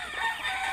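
A hen clucking close by, a short run of throaty, wavering calls.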